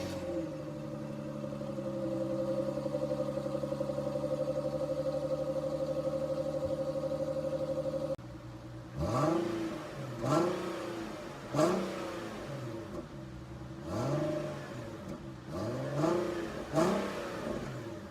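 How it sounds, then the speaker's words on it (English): A stock factory exhaust on an Infiniti Q50/G37 idles with a steady low drone, then the engine is blipped in a series of sharp revs that rise and fall, each one loud and close, with no talk over it. "factory exhaust really doesn't sound that bad"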